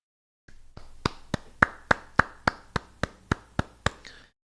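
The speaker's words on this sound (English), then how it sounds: "Please clap." About a dozen sharp, evenly spaced claps from a single person, slow and deliberate, close and clean against near silence.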